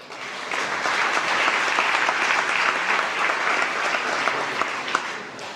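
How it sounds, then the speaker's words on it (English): Audience at an awards ceremony in Barbados breaks into full, steady applause, a dense wash of clapping that holds evenly for several seconds. "If we had a good time, clap for that."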